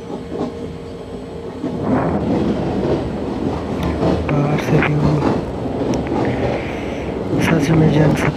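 A Jan Shatabdi Express in the Indian Train Simulator game rolls along at speed, with a continuous rumbling run, rhythmic wheel clatter and occasional squeals, growing louder toward the end.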